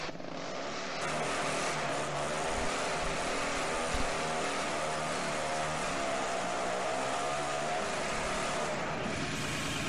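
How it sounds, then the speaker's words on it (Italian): A new tractor's engine cranking and starting in a farming simulator game on the Sosnovka map, an overly loud starter motor and engine giving a dense, continuous roar throughout, steady and close. "è proprio il motore di avviamento che è troppo rumoroso"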